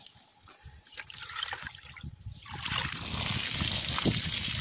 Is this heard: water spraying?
yes